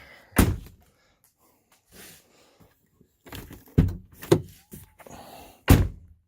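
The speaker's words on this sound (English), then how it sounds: "we'll close the door" Several sharp thuds of a Ford Fusion car door closing, with softer handling noises and rustling in between, close by and without speech.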